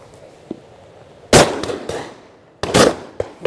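Shotgun shots fired at driven partridges on a hillside shoot, two loud booming blasts with sharp onsets a little over a second apart, each echoing away, with a faint distant pop before them.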